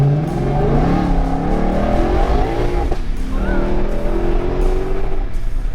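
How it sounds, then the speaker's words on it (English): A Ford Mustang GTD engine revs hard and then settles into a deep, throbbing roar, close and loud, with pitch sweeping up and down and a brief tire chirp, and no talking. "this sounds like an American muscle car"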